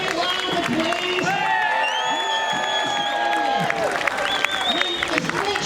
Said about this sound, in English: Will you please give each of yourselves a cheer?